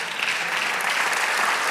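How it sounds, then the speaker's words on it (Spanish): A church congregation applauds during a Spanish-language sermon, with steady, dense clapping that is loud and sustained throughout and no talk over it. "Dale aplauso al Señor"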